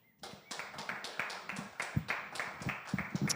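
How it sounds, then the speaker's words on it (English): Audience at a book event for author Kay White Drew applauds, a steady patter of many hands clapping at moderate distance with irregular louder claps throughout, no voices. "You can applaud, please."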